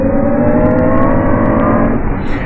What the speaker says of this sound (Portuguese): vou acelerar, escuta que ele tem um ronco, que é um ronco artificial